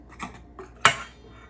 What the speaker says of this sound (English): I'm gonna give it a quick mix, just a little bit, just to distribute everything